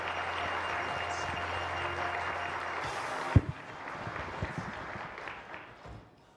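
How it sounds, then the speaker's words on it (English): Steady applause from a crowd at a township's annual State of the Township address fills the room, then thins out into scattered claps and a few taps as it fades. "Let's give them a round of applause."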